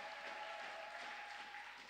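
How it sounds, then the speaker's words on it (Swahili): A church congregation applauds together, a continuous soft wash of many hands clapping heard at a distance, steady and fairly faint for under two seconds. "mpigie Bwana makofi ya shangwe na vigelegele"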